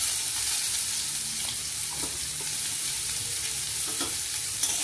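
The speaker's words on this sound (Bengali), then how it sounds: "ভেজে দিচ্ছি ভালো করে।" Potatoes with salt and turmeric fry in a pan, a steady sizzle with occasional stirring scrapes and clinks, close and continuous with no voices.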